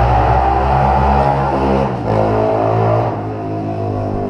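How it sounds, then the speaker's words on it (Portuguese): Loud, continuous low engine rumble of cars going by nearby on a main road, swelling and easing slightly as vehicles pass, with no speech. "Então passa bastante carro"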